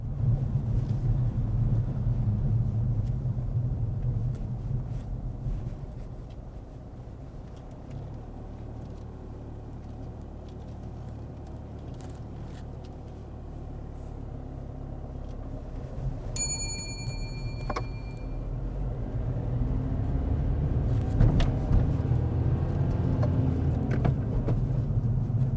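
A car on a driving test rolls toward a roundabout and slows down, a low steady road rumble and engine drone in the cabin, with a brief bright ding partway through and the rumble rising again near the end.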